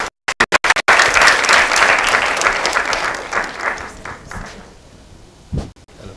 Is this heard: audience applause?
yes